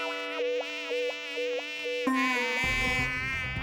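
Cartoon mosquito buzzing, a loud close whining drone that rises and dips in repeated swoops, then shifts into a thicker, lower buzzing tone.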